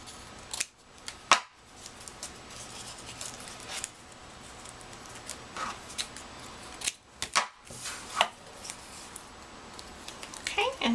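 Scissors trimming the ends of thick glittery scrapbook pages, a series of short crisp snips and paper rustles, close and fairly quiet, with someone talking between the cuts.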